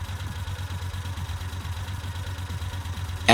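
A motorcycle engine held at 2000 rpm, a steady close throbbing hum with a regular pulsing beat and no voices.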